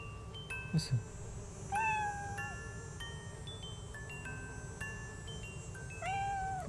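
Cat in a video game, several drawn-out meows with a few seconds between them over a quiet hum, with a brief sound from the player near the start.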